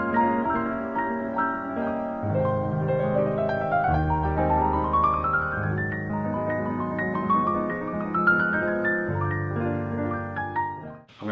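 A melodic line from an arrangement of a jazz standard plays for about eleven seconds, with rising runs over sustained chords, continuous and moderately loud with no talking.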